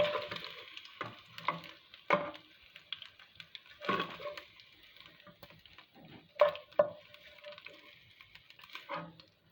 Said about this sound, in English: put my garlic pork back in the pan so it can finish frying up